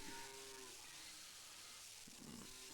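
Cows mooing in the Farmer's Dynasty farming video game, a low drawn-out moo at the start and another brief call near the end over steady ambient background.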